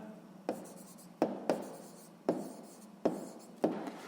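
Pen writing an answer by hand on paper during a Ukrainian 6th-grade math exercise, quiet scratchy strokes with about six sharp taps as the pen lands, close and alone.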